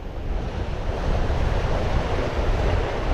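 A strong head-on southwesterly wind roars steadily across the mic on a bass-fishing shoreline, with surf washing underneath in a continuous, dense rush and no one talking.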